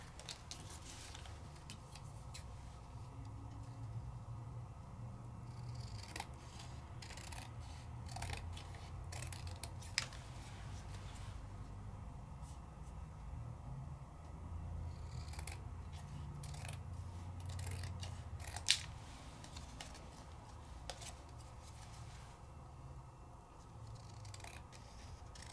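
Scissors trim paper for a handmade craft card, faint scattered snips and small rustles over a low, steady room hum, with no voices.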